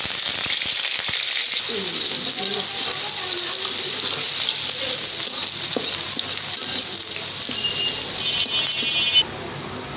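Onions sizzle loudly in hot oil in a wok after fried chilies, a dense, steady hiss and crackle held close for the whole stretch, with no talk over it.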